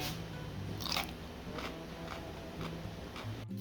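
Crisp crunchy bites into a homemade dill pickle, a few sharp crunches standing out clearly near the microphone with chewing between them and no talking.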